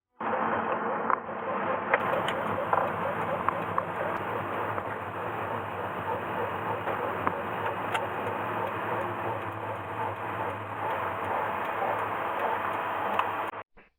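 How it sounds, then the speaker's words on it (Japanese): A Honda S2000 makes a steady ticking, knocking sound from the front brakes as it slows to a stop. The rhythmic clicks run continuously beneath a constant road and engine hum, with no voices. "ブレーキをかけて止まる時に、コッコッコッと、音がする"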